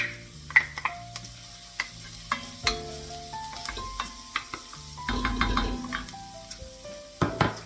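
Chopped garlic sizzling in a pot for winter minestrone soup, with a spoon stirring and scraping against the pan in irregular knocks and clinks over a soft, steady frying hiss, close and fairly quiet.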